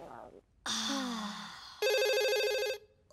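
A cartoon telephone rings in a bright electronic burst that starts about halfway through, after a gasp and a short vocal sigh. A brief second ring begins right at the end.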